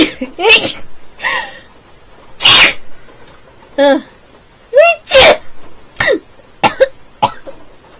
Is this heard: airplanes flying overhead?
no